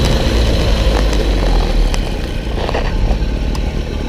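A small two-stroke Motobécane 103 moped engine buzzes steadily and loudly throughout, close by, with wind rush and no talking.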